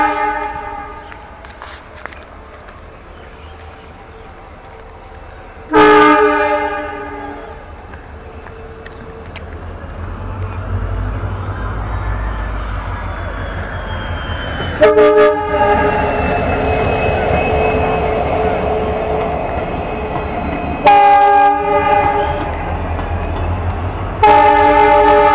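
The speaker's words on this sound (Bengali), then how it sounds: "আর এখন কোনো একটা ট্রেন আসতেছে।" A passing train blows its horn in repeated loud blasts, several spread across the clip, over the steady rumble and clatter of rail cars rolling by on a street-side track.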